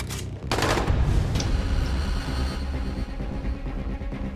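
Rapid gunfire in the zombie survival game Dying Light, dense bursts of shots with a sharp opening crack, then steady loud firing and action noise with no voices.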